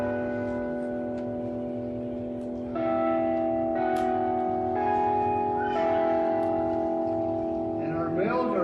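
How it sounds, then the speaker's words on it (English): Church bells ring out during an outdoor Easter sunrise service, overlapping tolls striking in succession with long ringing decays, fairly loud and close against a low background hum. "And our bells are cheering us on."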